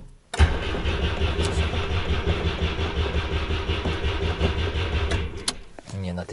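A GAZ-21 Volga engine cranks steadily in winter cold, the starter grinding loudly and continuously for several seconds without catching, then stops, followed by a short low rumble and a voice.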